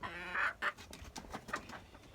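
Laying hens on a poultry farm cluck and call in short bursts, several overlapping calls at moderate distance with no talk.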